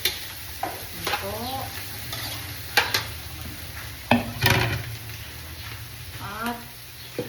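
Garlic and onion are sautéed in a pan, giving a continuous close sizzle with repeated stirring scrapes and metal clinks against the pan at irregular intervals, with some faint voice fragments mixed in.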